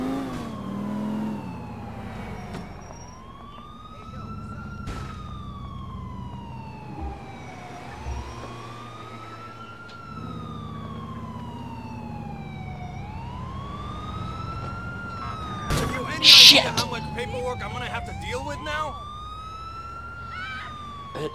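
An ambulance siren in the video game GTA, a loud wailing siren that rises and falls repeatedly in long sweeps, with vehicle engine noise beneath and a sharp bump or crash near the end.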